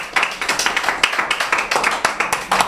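A church congregation claps together in a steady, quick rhythm to acclaim Jesus Christ during a French-language service, lively and close, with faint voices mixed in.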